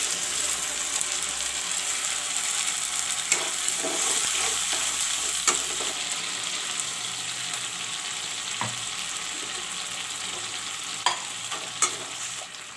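Onions fry in a pan with ginger, garlic and black pepper paste, giving a steady, close sizzle throughout, with occasional clicks and scrapes of stirring.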